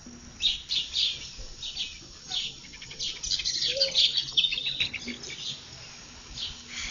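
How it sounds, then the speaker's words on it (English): Small birds chirp and twitter repeatedly in a backyard patio in short, bright bursts against a quiet outdoor background, some calls louder and closer than others. "just listening to those birds"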